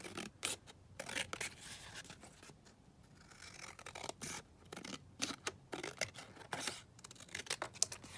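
Scissors trim around glued paper for a glue-book style folio, a quiet close run of short snipping, scratching and rubbing strokes in uneven bursts, with no voice.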